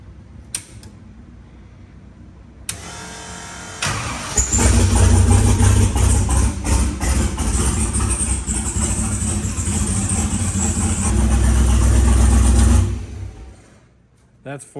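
Corvette Jeep rod engine running on four cylinders, revving hard and rough with a loud, sustained mechanical roar that swells for several seconds and then cuts off, preceded by creaks and cranking.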